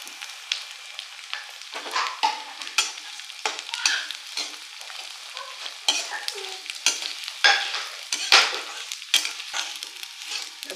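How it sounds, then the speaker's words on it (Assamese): Flattened rice (chira) stir-fried in hot oil, a steady crackling sizzle broken by repeated scraping strokes of a spatula in the pan, close and fairly loud throughout, with no voices. "আমাৰ চিৰা ভাজি হৈ গৈছে"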